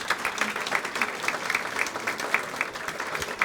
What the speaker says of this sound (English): How about a round of applause for our patron sponsors?